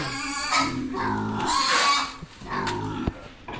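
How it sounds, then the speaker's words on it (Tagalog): A hungry pig squeals and grunts close by, making a loud, continuous run of harsh, strained cries with brief dips. "Gutom na yata yung baboy ni Rambo."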